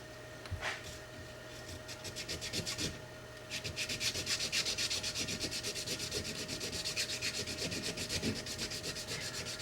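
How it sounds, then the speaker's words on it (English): Close, rapid sanding strokes rubbing back and forth on the breech face of a 2011 pistol in a steady rhythm, continuing without pause after a brief start. "just a little bit of sanding here and there."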